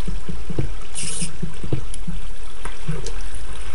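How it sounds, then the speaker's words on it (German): Water flowing through blocks in the Minecraft video game, a trickling, splashing game sound with soft repeated knocks and a brief hiss. "Wieso kommt das da immer noch durch, das Wasser?"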